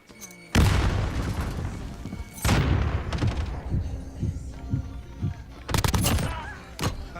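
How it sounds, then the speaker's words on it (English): Video game combat fills the mix with a grenade blast and heavy booming explosions, then repeated gunshots and further bursts, loud and close, with voices talking over the action. "Throw grenade. control. Throwing grenade."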